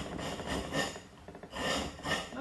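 Rounded back side of a wood rasp filing a wooden spoon with light, gentle strokes, giving two pairs of soft rasping bursts separated by a brief lull.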